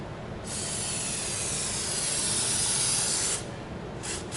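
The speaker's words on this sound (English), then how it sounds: "Give a good spray like that." White lithium grease is sprayed from an aerosol can onto a garage door spring: one steady, close hiss lasting about three seconds, followed by two short spurts.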